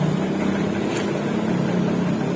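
A 2022 Honda Beat Deluxe scooter engine idles cold with a rough, uneven sputter, a steady low mechanical drone running continuously up close with no talk.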